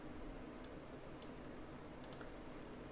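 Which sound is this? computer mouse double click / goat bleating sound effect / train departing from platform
computer mouse double click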